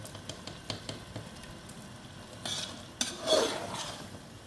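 Chicken and chickpeas stirred in a pan as they fry, with a soft sizzle, scattered spoon clinks and a louder scraping burst near the end.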